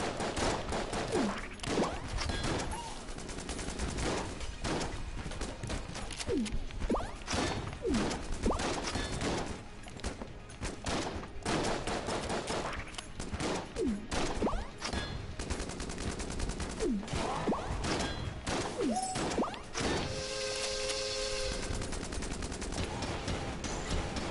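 Dense, continuous gunfire from the bullet-hell video game Enter the Gungeon, rapid shots and bursts overlapping with impact crashes and whooshes for the whole stretch, loud and relentless with no pauses.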